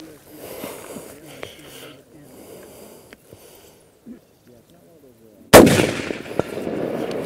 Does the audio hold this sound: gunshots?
yes